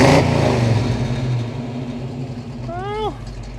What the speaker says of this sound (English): Just give it a couple thousand RPM.